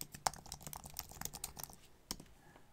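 Typing on a computer keyboard while filling in a web form: quiet, close keystrokes in an uneven rhythm, with a few sharper clicks and no talking.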